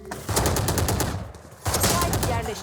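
In the video game Valorant, Vandal rifle gunfire comes in two sustained automatic bursts of rapid, punchy shots, with a brief pause between them and loud close-up game audio throughout.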